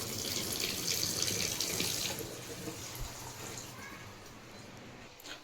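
Water running from a repaired wash basin tap in a house, a steady splashing stream close by that gradually eases and thins toward the end.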